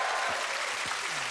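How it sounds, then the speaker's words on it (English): A TV game-show studio audience applauds the winner, with a brief burst of dense, even clapping throughout and a faint voice underneath. "Give Steve a round of applause, ladies and gentlemen"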